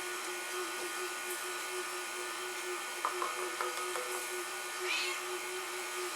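A KitchenAid stand mixer kneads bread dough with a steady whirring motor hum and faint knocking of the dough against the bowl, constant and fairly close throughout.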